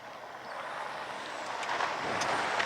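A stock Ford F-150 PowerBoost truck rolls over bumpy off-road ground, a broad rumbling and rattling noise that grows gradually louder, with brief knocks and clatters near the end.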